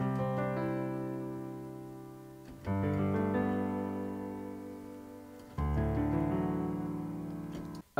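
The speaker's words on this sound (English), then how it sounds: "The chord progression I used in there makes use of modal interchange" Chord progression built on modal interchange, three sustained chords played one after another, each struck and left to ring and fade, clean and alone.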